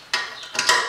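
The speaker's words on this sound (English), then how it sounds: "turning with the ratchet." A ratchet turning to tighten a bolt on a wheel detailing stand, giving two or three quick, close metallic clicking bursts in a quiet space.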